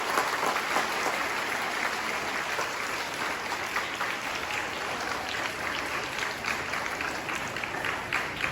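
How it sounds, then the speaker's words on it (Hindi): Sustained applause from a school audience at an Independence Day celebration, a continuous wash of many hands clapping at an even level throughout, heard from within the crowd without any voices standing out. "मैं चाहता हूं कि ये प्रोग्राम के लिए आप पहले तो एक बार जोरदार करतल ध्वनि करें"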